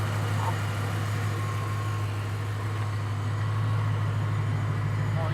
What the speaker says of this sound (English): Sounds like a regular car now.